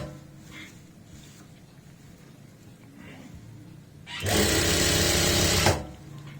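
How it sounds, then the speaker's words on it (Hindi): A sewing machine stitches a churidar pajama in a single loud burst of about a second and a half, after quiet handling of the fabric. "आधा इंच का मार्जिन लेते हुए हम सिलाई लगा रहे हैं।"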